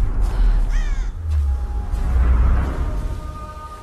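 Crows caw in the Tomb Raider (2013) game, loud and close, with a couple of harsh calls near the start, then a wider hiss of wind and ambience.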